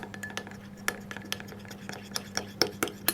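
Small clinks and light scraping of a utensil against a bowl while colored chocolate is mixed, a quick irregular series of close, sharp ticks over a low steady hum.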